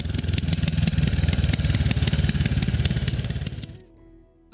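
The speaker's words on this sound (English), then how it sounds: "I think the exhaust note itself is pretty good for a standard exhaust." A Voge 300 Rally motorcycle on its standard exhaust runs loud and close with a steady, pulsing engine note, then drops abruptly to a quieter, lower idle near the end.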